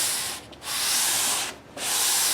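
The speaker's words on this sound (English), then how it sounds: "So what I'm using now is this 120 grit, sort of keeping in line with the string path." Sandpaper of 120 grit scrapes back and forth along a guitar fingerboard in three long, close, rasping strokes separated by brief pauses.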